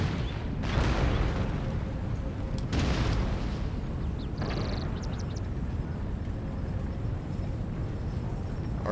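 Artillery fire in Empire Total War multiplayer: several heavy booming blasts ring out one after another over a constant rumbling battlefield bed, with faint higher clinks scattered between.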